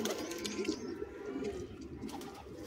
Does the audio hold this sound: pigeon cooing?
yes